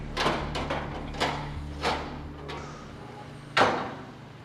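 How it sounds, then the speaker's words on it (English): Muffled thuds and knocks from a door being worked open on a fire-filled compartment, several scattered bumps over a low rumbling hum, with a sharper bang near the end. "All right, they're about to open the door."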